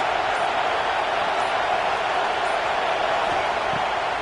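A stadium crowd at a football game roars steadily during a big third down, a broad, loud, unbroken wash of cheering and noise.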